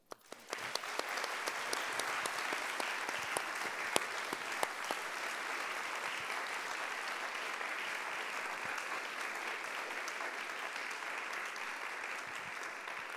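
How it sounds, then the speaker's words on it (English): Audience applause at a film screening, a dense sustained round of clapping from a crowd that starts abruptly and holds steady throughout, with no voices over it. "please join me in a round of applause for Mazyar"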